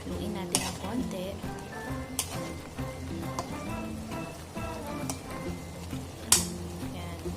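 Sautéed bitter melon (ampalaya) stirred in a pan: crackling sizzle broken by several sharp scrapes and clacks of the spatula against the pan, close and fairly loud, without speech.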